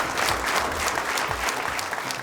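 A brief burst of audience applause at a semifinal of Armenia's Got Talent: dense, even clapping from a large crowd that fades slightly at the end.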